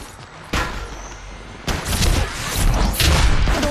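Gunfire in the video game Apex Legends: bursts of shots and booming impacts crackle in loud, dense volleys with no talk.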